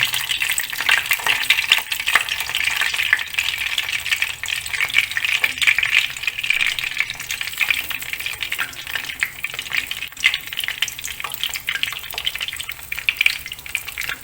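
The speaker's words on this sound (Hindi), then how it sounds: "हमारा जो घी है वो गर्म हो गया। अब हम इसके अंदर अंडे ऐड करते जाएंगे।" Eggs fry in hot ghee for an anda korma, a dense, steady crackle and sputter close by with scattered pops and stirring, and no talking.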